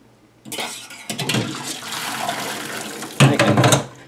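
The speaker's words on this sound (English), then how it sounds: "dump my water out" Water from a pot of boiled eggs dumped out into a sink, a splashing gush that starts abruptly, pauses briefly, resumes, then surges again in a final heavy pour.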